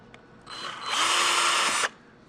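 Power drill driving a screw into a wooden deck chair: one short, loud whirring burst that rises, holds for about a second and a half, then stops abruptly, with quiet handling before and after.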